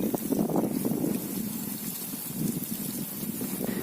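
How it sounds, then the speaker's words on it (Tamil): Return water gushing steadily out of the return valve of a submersible water pump after it is switched off, a continuous turbulent rush with no talk. "ஆஃப் பண்ண கண்டிஷனில் வந்து ரிட்டன் வால்வு வந்து தண்ணி இது மாதிரி வந்துக்கிட்டு இருக்குது"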